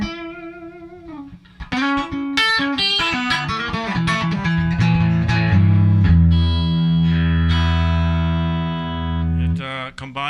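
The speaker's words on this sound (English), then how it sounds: "You can start to dial in a little bit of distortion to a fair amount." A Stratocaster-style electric guitar with Seymour Duncan or EMG pickups plays through heavy overdrive, a run of gritty notes ending in a long sustained distorted chord; loud and up front, no speech.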